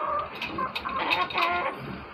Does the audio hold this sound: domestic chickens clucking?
yes